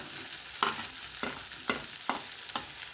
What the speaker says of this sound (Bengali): পেঁয়াজগুলোকে একটু হালকা লালভাবে ভেজে নেব